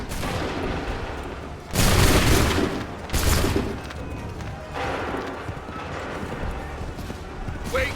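Musket volleys fired on command in Assassin's Creed 3 Remastered on Xbox One: two loud, ragged bursts of massed gunfire in quick succession, then a third sharp crack, over constant battlefield noise.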